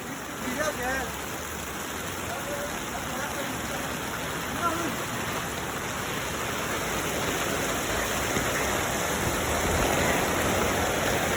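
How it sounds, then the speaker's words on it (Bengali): Heavy rain and rushing floodwater along a street in Subhash Nagar, Thiruvananthapuram, Kerala, form a steady broad roar throughout, with a voice talking faintly over it early on. "দেখো কেরালার মধ্যে বৃষ্টি শুরু হয়ে গেছে, কত বানপানি।"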